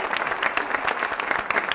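An audience at a live televised Spanish-language interview show claps continuously, the many sharp hand claps blending into a lively, fairly close ovation with no talking over it.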